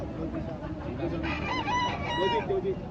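A rooster crows twice in a row at a gamecock farm in Lipa City, Philippines, loud and close, over a busy background of other fowl and faint voices.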